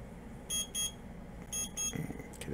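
An in-game timer alarm in the space game Avorion sounds in two pairs of bright electronic beeps, each pair a quick double pulse, moderately quiet over a steady low background hum.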